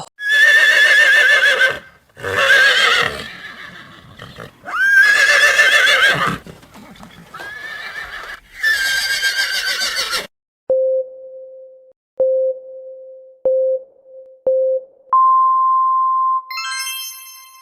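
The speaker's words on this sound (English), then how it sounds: "Horse." A horse whinnies loudly four or five times in quick succession, each neigh a shrill, shaky call, followed by a series of electronic beeps.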